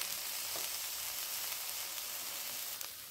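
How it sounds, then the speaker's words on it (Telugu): Split moong lentils fry in hot oil with asafoetida, a soft continuous sizzle with faint stirring ticks, steady and fairly quiet, easing slightly at the end. "పప్పులు వేగిపోయాయి, అలాగే ఇవి కూడా కొంచెం ఫ్రై అయ్యాయి."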